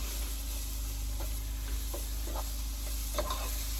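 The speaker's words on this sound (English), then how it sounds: "that oil and flour is really almost making a roux in the bottom of the pan" Oil and flour sizzle and brown into a roux in the bottom of a stew pan, a steady close frying hiss with a few soft stirring scrapes, no voices.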